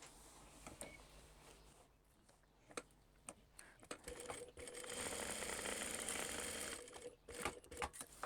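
A sewing machine stitches down and bastes the layers of a crossbody bag, its motor running in short bursts and then one sustained run of rapid stitching with light clicks between passes.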